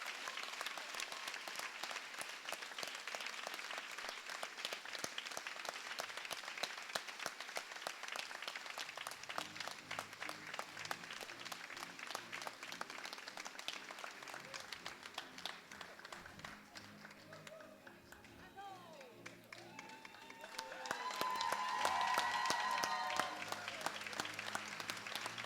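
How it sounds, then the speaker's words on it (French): An audience at an awards gala applauds continuously, steady dense clapping at moderate distance, with a few voices and cheers rising near the end. "j'invite tout le monde à lui faire une bonne main d'applaudissements"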